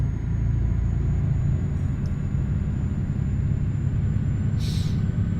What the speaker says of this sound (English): Listen to that grunt, the gunning of the engine.